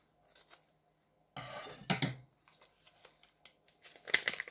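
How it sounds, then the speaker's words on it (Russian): A small paper packet of cassabanana seeds is torn open close up: faint rustles, then a sharp crinkling rip and a few softer tearing and handling sounds in a quiet room. "Сейчас я вместе с вами открою этот пакетик."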